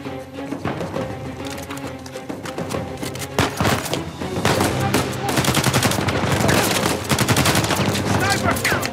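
Sniper and automatic gunfire in an Uncharted 4 combat scene, with dense, loud volleys of rapid cracks over a constant roar of action and music, broken by brief voice lines.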